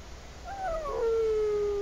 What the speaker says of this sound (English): Ah, even the dog mourns him.